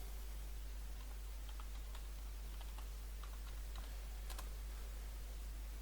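Soft, faint keystrokes on a computer keyboard while typing a website name, a few scattered clicks in a quiet room with a low steady hum.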